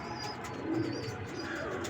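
Pigeons in a home loft coo softly and steadily close by, a low murmuring layer with a faint chirp or two and no voices over it.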